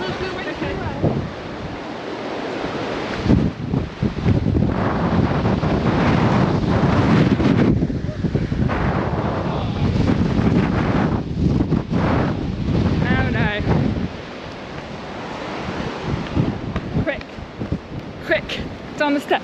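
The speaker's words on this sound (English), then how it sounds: "It's hugely windy." Strong wind buffets and roars continuously across the microphone while people talk through it on a group walk at Winnats Pass, Castleton, Derbyshire, easing briefly before gusting again.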